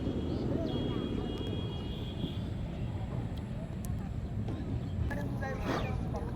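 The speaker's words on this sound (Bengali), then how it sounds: "এই যে আরেকটা ইঞ্জিন নৌকা, অনেক বড় নৌকা" A large engine-powered boat passes on wide open water, its faint droning motor humming steadily beneath people talking nearby.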